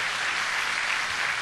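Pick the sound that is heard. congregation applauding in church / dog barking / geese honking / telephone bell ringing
congregation applauding in church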